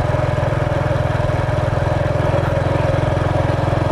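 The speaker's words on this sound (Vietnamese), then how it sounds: "Ồ có xe máy đi kìa, không lẽ qua được ta." A motorbike engine on a road approach to the Rạch Miễu 2 bridge in Vietnam drones steadily and close, a loud, even low throb that stays constant throughout with no voices.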